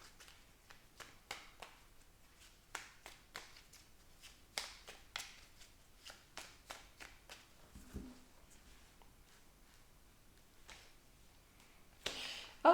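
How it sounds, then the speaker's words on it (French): Fairy oracle cards shuffled and drawn by hand, a quiet series of soft papery flicks and slides in an irregular rhythm, close and faint with no talk. "on va prendre une petite carte de l'oracle des fées"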